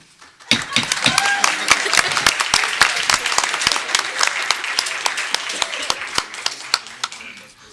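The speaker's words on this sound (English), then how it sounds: "We applaud" Applause at a school board meeting right after a motion carries: a room of people clapping, loud individual claps standing out at first and then blending into steady applause, with some voices underneath.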